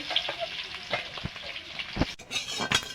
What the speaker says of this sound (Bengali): আমি ডিমগুলো নাড়াচাড়া করে ভেজে নিয়েছি